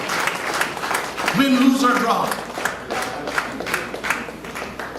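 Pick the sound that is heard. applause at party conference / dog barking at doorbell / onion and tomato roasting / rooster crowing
applause at party conference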